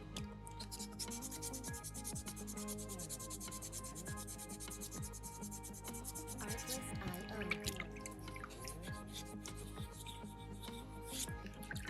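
Sandpaper rubbing across a soapstone skull carving, a steady run of close scraping strokes over continuous background music.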